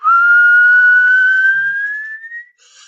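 A voice imitates an old stovetop kettle whistling: one loud, steady whistle rising slowly in pitch over about two and a half seconds, then cutting off abruptly.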